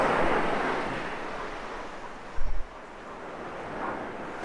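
Atlantic Ocean surf at Myrtle Beach, South Carolina, a soft continuous wash of waves with wind rumble and a brief low thump midway, no talk.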